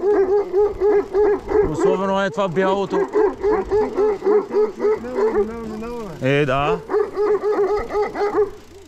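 Dog barking repeatedly near a village road, loud rhythmic barks with a few yips, while a person speaks briefly over it.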